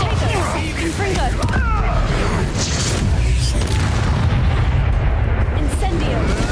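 Bombarda and Confringo spells blast in a Hogwarts Legacy battle, a loud, dense run of booming explosions and crashes that fills the whole stretch, with a voice shouting over the din.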